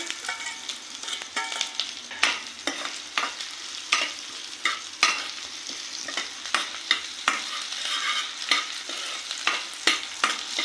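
Green chillies and ginger sauté in a hot pan with a steady sizzle, broken by a spatula's repeated scrapes and knocks against the pan. No one speaks.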